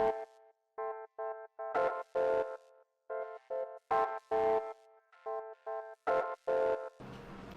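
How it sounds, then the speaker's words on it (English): Piano chords chopped into a stuttering step-sequenced rhythm by a glitch effect, with short gated bursts and repeated stabs falling in a looping bar-long pattern, clean and fairly quiet with no voices. "the glitch plugin is basically an effect plugin where you can able to create a pattern, the rhythmic pattern with this step sequencer kind of thing"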